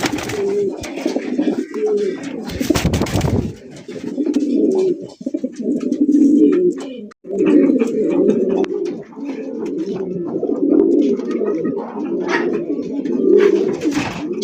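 Paik racer pigeons for sale at a bird market coo in repeated low, throaty rolls, close and loud, over a busy, noisy background with occasional flutters and clatter but no clear talk.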